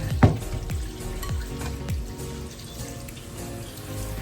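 Running tap water splashes over mutton meat being rinsed in a home kitchen, a steady close wash with a few brief thumps and splatters as the meat is handled.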